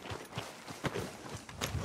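Horse hooves clip-clop in a steady, moderately close rhythm as a mount sets off in Red Dead Redemption 2, with a few louder hoof strikes standing out.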